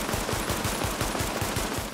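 Rapid automatic gunfire from a weapon in The Division rattles continuously and loud, a dense steady stream of closely spaced shots with no pauses.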